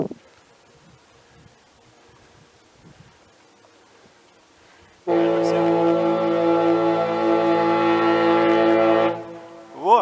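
A deep, loud ferry horn blasts steadily for about four seconds in fog after quiet outdoor rustling, ending abruptly, followed by a brief breathy sound. Clinton–Mukilteo ferry area, Whidbey Island.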